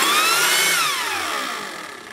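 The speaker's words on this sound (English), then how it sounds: "It is a variable speed blower with your trigger here." Ryobi RY40430 40V jet fan leaf blower running close and loud, its high whine sweeping down in pitch as it slows, then fading steadily toward the end.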